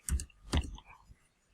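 A computer mouse clicks in quick, close succession, a pair of sharp taps followed by another click and fainter handling noise in a quiet room.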